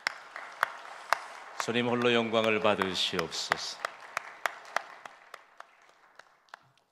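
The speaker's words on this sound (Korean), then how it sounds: "하나님께 박수로 영광을 올려드리기를 원합니다" A church congregation claps together in a sustained burst of applause at a 15th anniversary service while a pastor's voice carries over it. Sharp individual claps trail off afterward.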